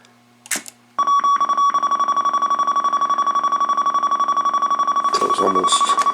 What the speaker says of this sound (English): Then we're going to turn the radio on, and you'll see the display going all crazy, and she'll beep.